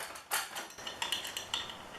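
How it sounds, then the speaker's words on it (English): A knife scrapes and clicks lightly while cutting stuck template pieces from under the brackets of a Fleximounts GL1 garage lift, a few quiet, uneven metallic taps over a faint background. "where there's pieces that might be stuck underneath the brackets, I am using my knife to cut those away"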